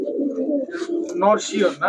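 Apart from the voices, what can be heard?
racing pigeon cooing in a pigeon shop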